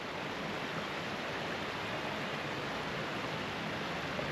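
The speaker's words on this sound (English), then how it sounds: "look at the waterfalls, man." Constant broadband roar of rushing water, steady and unbroken, like a waterfall heard from nearby, on a fell in the Lake District.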